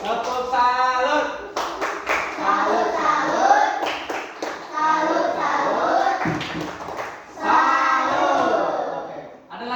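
A class of students claps hands together in a classroom, bursts of clapping mixed with shouting children's voices, the sound rising and falling over about ten seconds.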